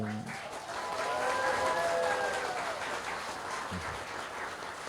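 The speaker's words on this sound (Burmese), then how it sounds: "ဒီမှာရှိတဲ့ပရိသတ်အပေါင်း နော်လက်ခုပ်ဩပါအားရပါရတီးပြီးဂုဏ်ပြုပေးပါဦး" Wedding guests applaud during the ceremony, a soft, steady patter of many hands from across the room, with faint tonal sounds drifting over it.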